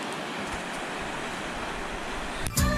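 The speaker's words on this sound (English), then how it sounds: "See the current of this river." A river current rushes steadily through a flood-affected area, a continuous broad wash of flowing water that is fairly loud and near. A brief thump and rustle sound at the end, with no talking.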